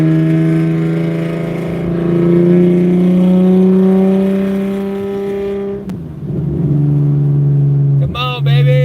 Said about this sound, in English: Super loud. Super loud, if you can't tell already.